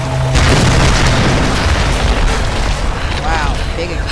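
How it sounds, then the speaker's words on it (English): A loud, booming blast rumbles through a Tomb Raider game scene after a burning boat, followed by crackling debris and a brief rising whoosh. "Wow, big explosion."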